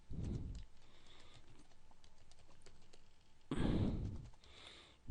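Someone types on a computer keyboard in rapid, close, light clicks that run continuously, broken by two soft breathy puffs near the mic.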